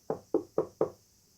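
Four firm knocks on a door at an inn, evenly spaced and close, then silence.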